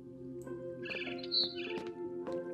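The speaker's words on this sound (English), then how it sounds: "Then I heard chirping outside my window." Small barn swallow chirps in the video game What Remains of Edith Finch, over a steady tonal background hum, a few brief tweets scattered across a couple of seconds.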